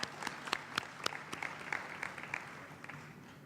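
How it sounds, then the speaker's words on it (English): A crowd claps at an anniversary event, a steady, fairly soft patter of many hands with a few crisper nearby claps, sustained without talk. "Could we have a round of applause one last time?"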